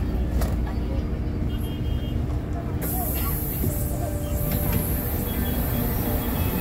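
A light rail train rumbles at an LRT station terminal in Cubao at night, with a steady, loud mechanical roar, a brief higher whine joining partway through, and a faint voice in the background.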